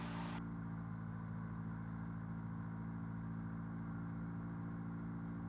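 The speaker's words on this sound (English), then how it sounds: "We run up the engine to 1700 RPMs." A Cessna 172 engine runs steadily at about 1700 RPM during run-up, giving a constant droning hum that stays even throughout. A brief higher rush is heard at the very start, and no voices are present.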